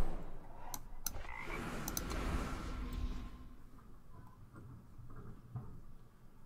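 A frog croaks in the Eternal card game right after a polymorph spell, a burst of close rattling croaks with light clicks over a soft game background.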